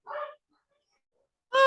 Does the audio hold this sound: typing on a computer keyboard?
no